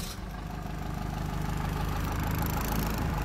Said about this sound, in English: Yes, it's a turbo diesel.